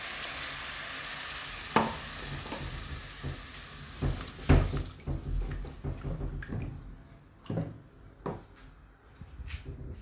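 Water splashed into a pan of frying turmeric and spices for a Bangladeshi curry, a loud hiss at first that settles into steady sizzling with scattered stirring clatters and spoon taps.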